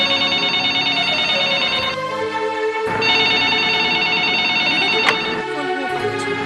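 A telephone rings repeatedly in a household scene from a Gujarati film: a loud, steady electronic trill in bursts with short pauses between them, and no voices over it.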